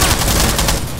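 Gunfire in Rainbow Six Siege, a loud, close barrage of rapid shots that fills the whole brief moment with no talking over it.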